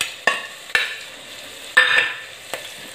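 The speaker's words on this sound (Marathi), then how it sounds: "याला पण छान तेलात परतून घेणार आहोत" Grated fresh coconut is sautéed in oil with browned potatoes for a potato-cabbage dish, a soft sizzle broken by a few sharp spatula scrapes and stirs.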